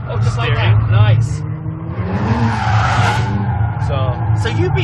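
A Kia Stinger drifts at SEMA 2017, its tires squealing and skidding continuously while the engine roars nearby, with people talking over the noise.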